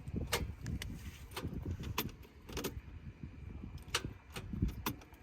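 A car that will not start gives a series of sharp, irregular clicks when the key is turned, close up and fairly quiet, spaced out over several seconds with faint rustling between them.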